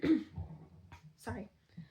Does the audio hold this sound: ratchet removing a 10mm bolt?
no